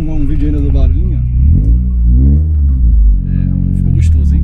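A Renault Laguna Nevada station wagon's 2.0 16-valve Volvo-derived engine runs with a deep, steady rumble and some revving, heard loud and close from inside the car under people talking.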